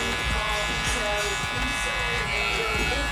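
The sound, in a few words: electric hair clipper buzzing during haircut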